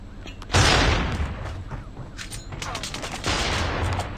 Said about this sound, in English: They firing off shots.